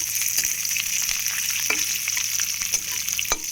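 Dried red chilies fry in hot oil with chickpeas and curry leaves, a loud continuous sizzle with occasional stirring clatters and pops from the pan.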